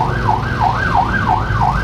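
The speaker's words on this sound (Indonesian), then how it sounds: "mobil pemadam kebakaran." A loud fire truck siren wailing, sweeping up and down in a steady repeating cycle, close by and continuous, heard from a motorcycle in traffic.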